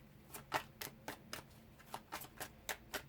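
A pre-shuffled tarot deck is riffled by hand during a water-sign reading, giving a quick series of about a dozen crisp papery card flicks at an uneven pace, close and fairly quiet, with no talking.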